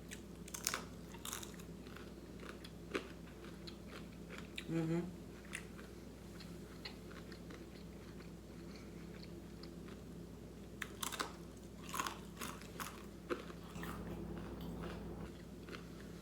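Close, crisp crunching bites and chewing of crispy bacon recur in short bursts over a low steady hum, with soft mouth noises between the crunches.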